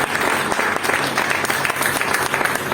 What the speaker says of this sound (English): Please give a big round of applause for yourself first.